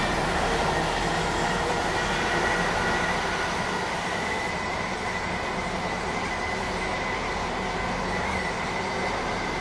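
A train in the Roblox game Stepford County Railway runs on a Stepford Connect service, giving a steady, dense rolling rumble with faint wheel squeal throughout, loud and unbroken.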